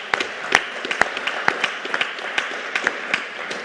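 Scattered hand claps from a conference audience after a health coverage presentation, loose and uneven, fairly close, with sharp individual slaps over a low room murmur.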